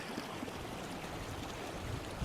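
Water running along a roadside gully, a steady, faint, continuous rushing and trickling with no breaks.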